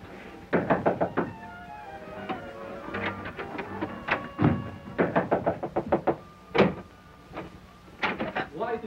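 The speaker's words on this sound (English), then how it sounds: "There's someone at the door." Knocks rap on a door in a 1938 crime thriller interior, several quick sharp bursts in groups spread across the stretch, close and fairly loud, with some faint shuffling between them.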